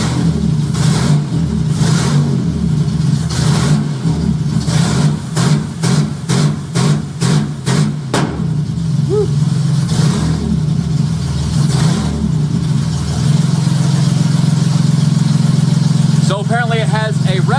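Honda J35 V6 engine in a Baja, revving repeatedly against a 2,000 RPM rev limiter with the ignition cutting out, giving a series of rapid, loud pulsing revs before settling into a steady drone, with a voice speaking over it.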